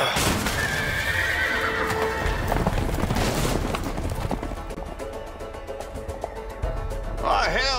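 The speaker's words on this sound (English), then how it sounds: "the horses are escaping" Horses whinny loudly over pounding, galloping hooves in the video game A Way Out, with booming effects and a final high neigh, in a busy game-like soundscape.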